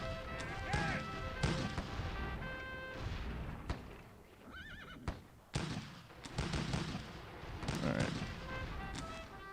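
Artillery in the Civil War strategy game Sid Meier's Gettysburg booms as sharp repeated blasts amid whinnying horses and battlefield noise, with a short spoken word in between.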